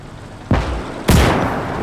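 Two sharp gunshots crack about half a second apart in the World War II strategy game Gates of Hell: Downfall. Each is a loud, booming report with a short echoing tail, and there are no voices.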